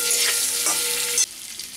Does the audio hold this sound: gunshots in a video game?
no